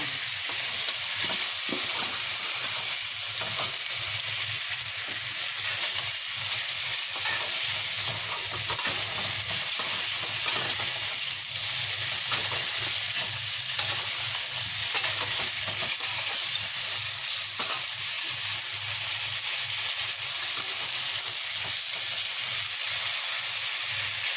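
Bottle gourd pieces fry in oil in a pan, giving a steady, close sizzle that runs for the whole stretch, with faint scraping stirs now and then and no talk.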